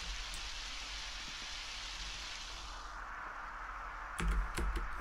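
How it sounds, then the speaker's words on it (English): Muffled rain on a cave roof in Undertale's Waterfall area hisses steadily, with a burst of sharper clicks near the end and no speech. "The sound of muffled rain on the cave top fills me with determination."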